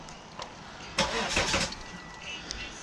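Volvo XC70 D5 diesel engine after maintenance, quiet at first, then a brief crank around the one-second mark bursting into a rough start and settling into a low run.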